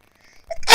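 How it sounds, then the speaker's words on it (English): A single sharp sneeze bursts out at the end after a short quiet intake of breath, loud and close with no talk around it. "Excuse me. Sneezing there."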